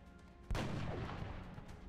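A single loud gunshot with a sharp attack and a rumbling decaying tail fires in the video game XCOM Enemy Unknown, heard alone against quiet game ambience.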